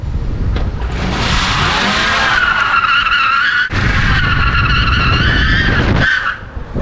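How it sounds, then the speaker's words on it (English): An electric Tesla-swapped Chevrolet C10 truck does a front wheel burnout. Loud, sustained tire squeal rises and wavers in pitch, breaks off briefly near the middle and resumes, then cuts out abruptly. There is no engine roar and no talking. "that was a front wheel burnout"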